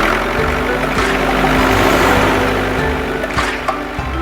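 Toy-style tractor engine running with a steady, loud, rumbling drone and a few faint knocks, heard alone throughout.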